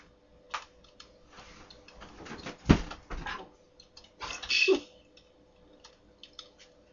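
Typing on a computer keyboard, sparse irregular clicks and clacks with short clustered bursts and pauses, quiet and close in a still room.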